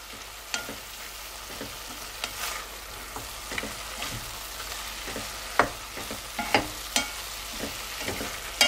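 Spices are stirred into beef chili in a pot. A soft, steady sizzle runs under irregular scraping taps of a spoon against the pot.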